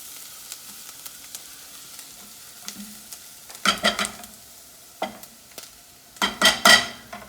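A pan of crushed tomatoes with paprika, salt and pepper is stirred as it sautés. Soft sizzling runs under several louder scraping, clattering strokes of a utensil against the pan, with no talking.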